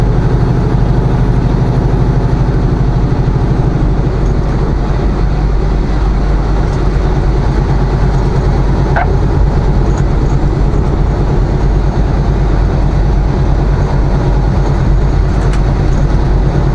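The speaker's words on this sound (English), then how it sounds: "Train," A train passes in Walton, Kansas, with a loud, steady rumble and rolling wagon noise that holds for the whole stretch, a faint brief squeal rising partway through.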